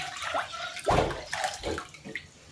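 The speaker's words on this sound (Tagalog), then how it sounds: "Papakuluan ko muna itong chicken breast. Lagyan natin ng tubig." Water is poured into a cooking pot holding chicken breast to be boiled, giving several soft splashing gurgles in uneven bursts, fairly quiet and close.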